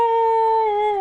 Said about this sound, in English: That's how she talks. She howls.